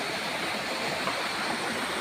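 A waterfall at Tagkawayan, Philippines, tumbling over large boulders in a stream: a steady, dense rush of falling water fills the two seconds evenly with no voices.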